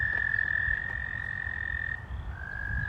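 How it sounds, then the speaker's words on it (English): Frogs trilling from a pond in a continuous high chorus, with a brief dip and shift in pitch partway through, steady and fairly loud. "Yeah, that's the sound of a frog."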